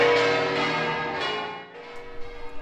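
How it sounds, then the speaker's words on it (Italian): Cathedral bells pealing in celebration on an afternoon, a rich ringing tone with overlapping strikes that decays and thins toward the end, no voices present. "anche le campane della cattedrale hanno suonato a festa questo pomeriggio"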